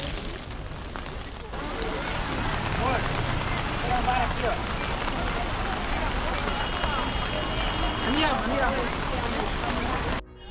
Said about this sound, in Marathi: फुल पाऊस आलाय आणि सगळा सत्यानाच झालाय